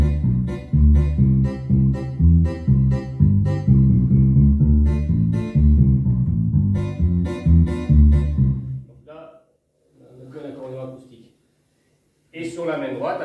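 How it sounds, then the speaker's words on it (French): A digital accordion plays a lively folk-style passage, left-hand bass notes under strummed folk guitar chords, steady rhythmic pulses for about nine seconds before the music stops and someone speaks briefly in two bursts. "pour la main gauche, on a choisi un son de basse en fait sur la basse. Et pour les accords, on a mis un son de guitare"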